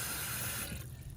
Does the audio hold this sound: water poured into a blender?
yes